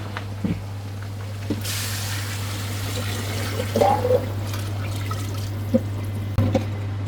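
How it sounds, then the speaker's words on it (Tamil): Water pours steadily into a cooking pot for Arabian mandi, a continuous trickling splash over a low electrical hum, with a few soft clanks along the way. "தண்ணி ஊற்றிக்கிட்டலாம்"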